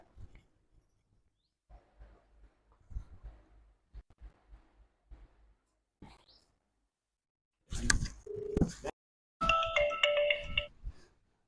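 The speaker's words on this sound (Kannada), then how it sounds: "ತಂಗಿ ಫೋನ್ ಹಚ್ಚು" Phone ringtone in a home, a tinkling melodic tone sounding in two bursts near the end after a stretch of quiet scattered noises.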